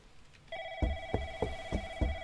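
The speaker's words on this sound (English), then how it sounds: "And there goes the phone." A telephone rings in the video game Baleful, an electronic tone pulsing in a steady rapid rhythm of repeated rings, close and clear with no talk.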